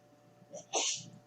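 A woman sneezes in a played-back clip: a small breathy catch, then one sharp, fairly close sneeze that tails off into soft breath.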